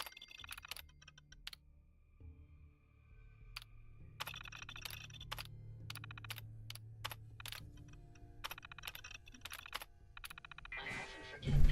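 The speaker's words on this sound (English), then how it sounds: "I often forget people need to use the keyboard to access a terminal." Keys clatter on a terminal keyboard in the video game Fallout 4, a fast, uneven run of crisp clicks that stalls, then comes back in dense bursts over a low hum, ending in a louder electronic swell.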